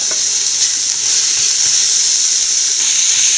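Crushed green chilli, ginger and garlic sauté in a pan with softened onion, giving a steady, close sizzle and hiss that runs without a break.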